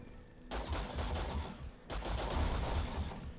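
Rapid bursts of modified plasma weapon fire in the space game Starfield, two dense sustained volleys with a brief gap between, loud and close with no talk.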